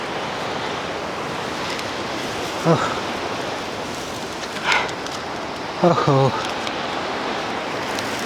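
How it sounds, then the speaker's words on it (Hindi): Loud, steady broadband rush of a river flowing below a forest trail on a hillside, continuous throughout, with a man's brief exclamations over it. "नदी का इतना शोर सुनाई दे रहा है"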